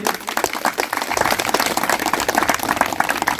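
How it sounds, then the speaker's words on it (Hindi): Loud, dense applause from a village crowd honouring a visiting saint, steady clapping that carries on without a break. "मैं चाहूंगा आदरणीय संत जी के लिए एक बार जोरदार ताली होना चाहिए।"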